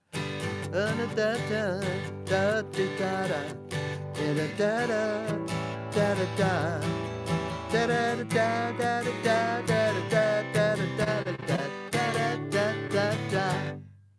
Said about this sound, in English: What I do is I just slide my A up here and play the B here.